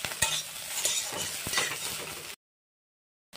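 Soybeans being stirred in a pan with turmeric, chili and cumin powder, sounding as a close sizzle with repeated spoon scrapes and light clinks, cutting off abruptly into silence after about two seconds.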